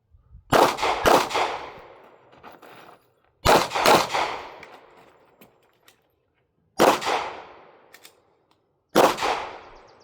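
Ruger RXM pistol fired at practice targets on a range, steel-case ammo: sharp close gunshots in quick pairs and singles, each ringing off with a metallic clang from steel targets, separated by quiet pauses.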